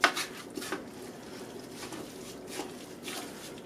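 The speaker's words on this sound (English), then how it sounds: "So we're going to go ahead and we're going to stir this." A spoon stirring vinegar brine in a pot for canning Amish zucchini hot dog relish, with soft scraping and light clinks of utensil against the pot, close and fairly quiet.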